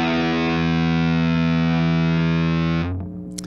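Electric guitar through a compressor, distortion, tremolo and delay chain into a GuitarML Blues Junior amp model: one loud, sustained distorted chord rings steadily for almost three seconds, then cuts off abruptly into a short fading tail.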